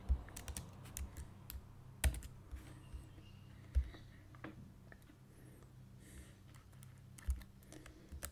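Close, quiet clicking of keys as a comment is typed on a computer keyboard, in uneven bursts with a few sharper thumps, over a low background hum and no talking.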